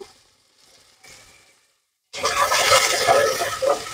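Chopped onions dropped into hot oil already fried with cumin seeds, for a ladies finger curd curry, bursting into a loud, steady sizzle after a quiet start.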